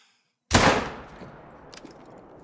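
A hunting rifle fires once in The Hunter: Call of the Wild at Te Aworoa National Park. After a brief silence comes a single loud crack, followed by a fading rumbling tail and faint rattles.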